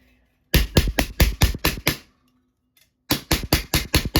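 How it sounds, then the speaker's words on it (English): Hammer blows flattening a rolled 18 gauge copper sheet: two bursts of sharp, loud metallic strikes in a steady rhythm, about eight then seven hits, separated by a short pause. "just kind of hammer this flat because it has that roll in it"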